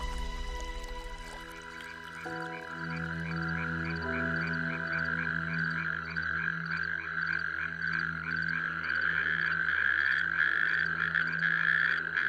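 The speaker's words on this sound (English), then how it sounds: "The natterjack toad." A natterjack toad calls in moist forest, giving a continuous rapid rattling trill close by. The sound is steady and fairly loud and carries on throughout, with no voices.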